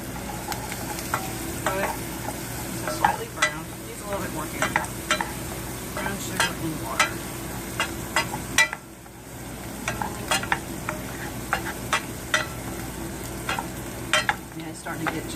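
Onions cook in a pan under a steady sizzle, with frequent scraping stirring strokes throughout and a brief lull midway.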